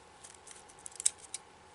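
A few soft scissor snips cut material for a holiday table centerpiece, quiet short clips near the end, close to the listener, with no voices.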